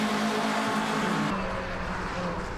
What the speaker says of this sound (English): as they come down into Goddard's hard on the brake. Back on the power, around they go